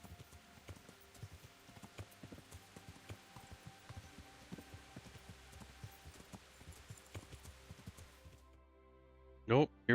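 Horse hooves clip-clopping on the ground in the medieval video game Kingdom Come: Deliverance, a quiet, steady walking rhythm under background game ambience, ending with a couple of sharp louder sounds.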